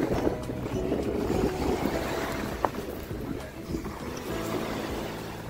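Steady wash of sea waves and wind rumbling against the microphone, with one brief knock partway through.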